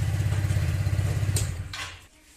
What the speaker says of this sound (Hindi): इस स्कूटी का एग्जॉस्ट साउंड मैंने स्टार्ट किया है